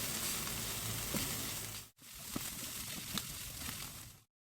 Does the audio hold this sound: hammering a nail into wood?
no